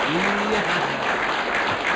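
Audience applause at an Indonesian comedy talk show, a continuous hiss of many hands clapping, with a voice briefly speaking over the start.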